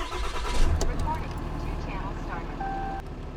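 A Ram 3500 pickup engine cranks and fires up, settling into a steady, fairly close rumble with a low thrum, while someone talks over it.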